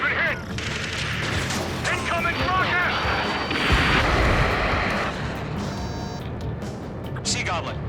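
A rocket blast in the Ace Combat 7 video game booms out about midway through a dense, continuous wash of battle noise, with crashing impacts and radio-style voices talking over the din throughout.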